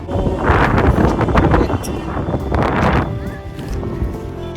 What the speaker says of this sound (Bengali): এত সুন্দর হাওয়া